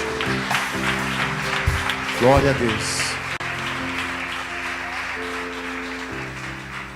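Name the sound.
church congregation applauding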